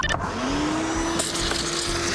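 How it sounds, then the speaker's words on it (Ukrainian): A vacuum cleaner drones continuously up close, its motor whine rising slightly in pitch as it spins up. "Пилососимо далі."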